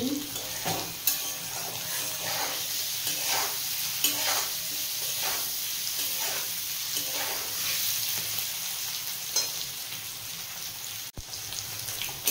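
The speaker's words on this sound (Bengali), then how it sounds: "পনিরটা হালকা করে ভাজা হয়ে গেছে।" Homemade paneer fries in a pan, a steady close sizzle with scraping stirs and light clinks recurring every second or so throughout, no voices.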